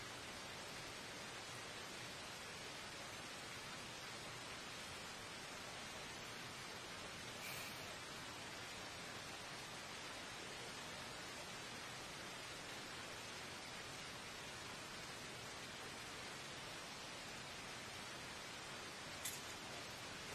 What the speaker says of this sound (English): The rain makes it more sad.